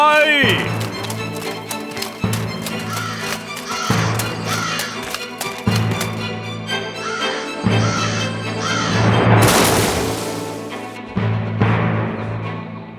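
Crows caw in an animated Thai fairy tale, harsh repeated calls heard under spoken narration and background music.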